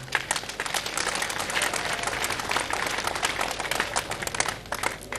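A crowd applauds at a memorial ceremony in Lubumbashi, attended by President Tshisekedi, in honour of Baba wa Katanga: sustained, fairly loud clapping from many hands, rising and falling slightly over several seconds.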